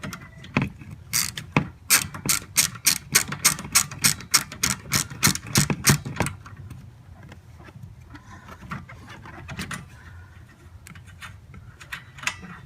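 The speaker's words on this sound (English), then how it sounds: "the arms take the 15 millimeter socket." Quick ratcheting clicks from a wrench fitted with a 15 mm socket loosening bolts during a PCM replacement, a dense burst of sharp ticks over the first six seconds, then quieter scattered clicks and handling noise.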